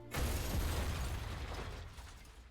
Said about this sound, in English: an explosion erupts outside the door. The sound is distant